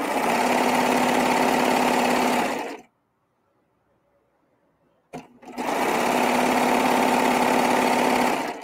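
Coverstitch sewing machine running a hem around a garment armhole, a loud, fast, steady mechanical whir up close that stops for a couple of seconds of near silence, then starts again.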